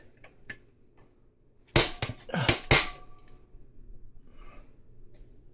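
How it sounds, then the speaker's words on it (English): Metal hammer strikes knock a brake pad retaining clip into place on a KTM 690 Enduro R wheel, several sharp close clanks in a quick cluster amid faint workshop background. "you need to give it some pretty good whacks because that clip is kind of hard to get in there"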